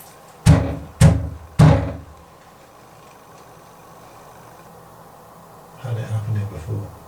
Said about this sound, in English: I'm just going to bang the door.